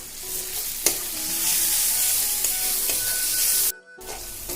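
Onions sizzle and fry steadily in a pan with salt, a loud continuous hiss with a brief stir or scrape near the start and a sudden cut near the end.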